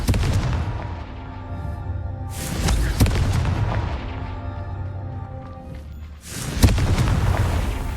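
Explosive Confringo spell blasts in the Hogwarts Legacy video game, two heavy booming impacts around three and six and a half seconds over a rumbling game soundscape, with no talk.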